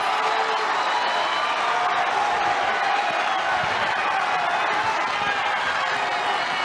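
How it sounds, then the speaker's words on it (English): At Carver-Hawkeye Arena during a Penn State vs Iowa college wrestling dual, a packed crowd rises to its feet in a loud, sustained roar of cheering that fills the whole stretch. "And this Carver Hawkeye crowd coming to their feet."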